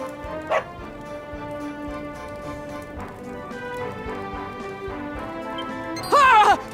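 Dog barking in the Dragon Quest XI video game, a short yelp early on and a louder burst of barks near the end over quiet game sounds.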